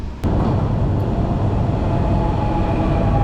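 Loud, steady rumble of an Istanbul subway train running on its tracks, with a brief click at the start and continuous roaring noise throughout.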